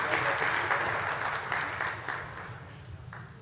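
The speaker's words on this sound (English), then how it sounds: "So another round of applause for Mr." Audience applause fills a recognition ceremony, a dense steady clapping from a large crowd that runs throughout and tapers slightly toward the end, with no voices over it.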